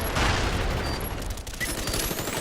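Continuous dense gunfire and explosive grenade blasts from a Black Ops Demolition match fill the mix in a steady, loud barrage without pause.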